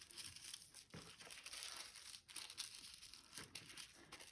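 Paper is folded over and over into rectangles for a homemade Christmas cracker, giving close, quiet, continuous crinkling and crumpling with small sharp crackles.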